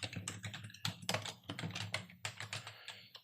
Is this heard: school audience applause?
no